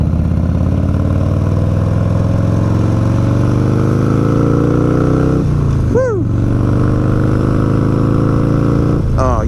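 A Harley-Davidson motorcycle with an Evolution engine and Woods cam rumbles steadily while riding through twisty Florida roads, a loud low drone heard up close that dips once with a brief higher sound.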